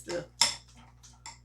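Baking soda scraping against a bowl while being stirred into homemade toothpaste, a few quiet gritty scrapes, the second strongest, then fainter short rasps.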